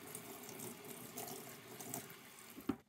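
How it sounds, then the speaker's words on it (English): Hands being rinsed under a running tap make a steady, soft splashing stream of water close by, ending with a brief knock as the flow stops. "you need to rinse your hands under clean running water to wash it all away"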